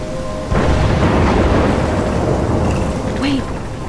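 Thunderstorm in the video game Life is Strange: a sustained, loud rumbling roar of storm wind and rain that swells at half a second and holds steady to the end, with a deep boom underneath.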